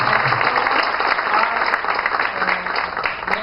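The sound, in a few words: applause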